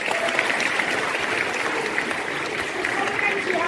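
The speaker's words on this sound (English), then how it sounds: "Round of applause for the three of them." An audience applauds three students from TPS Siliguri, steady clapping at moderate level holding evenly throughout, with voices faintly mixed in.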